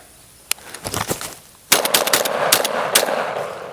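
Benelli M4 shotgun firing Federal shells at a range, heard as a single sharp crack followed by a dense, loud volley of rapid bursts that continues to the end, close and forceful.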